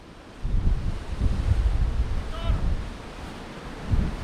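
Strong storm wind buffets outdoors, a steady roaring rush with gusting swells and heavy rumble on the microphone, while a voice speaks briefly somewhere in the middle.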